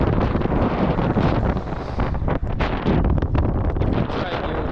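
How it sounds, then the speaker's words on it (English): Strong, cold wind buffets a moving cyclist in Slovenia, producing continuous loud rushing and gusting noise across the microphone with brief dips. "The wind is so bad, my speed is half the normal speed."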